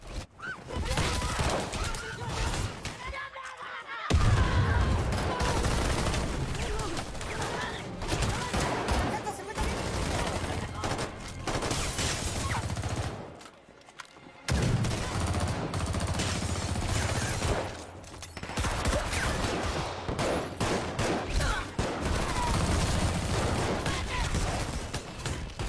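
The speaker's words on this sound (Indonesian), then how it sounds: "mereka langsung dikejutkan dengan serangan Josefo yang dar-der-dor" Bursts of gunfire in a Counter Strike action film, a dense, loud crackle of shots running almost continuously, broken by two short silences, with voices mixed underneath.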